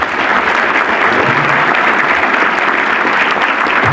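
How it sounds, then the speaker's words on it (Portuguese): Dense, sustained audience applause for Dr. Sebastião at a legal lecture on compensation for work incapacity, a steady loud wash of many hands clapping with no pauses across the whole stretch. "Uma salva de palmas ao Dr. Sebastião."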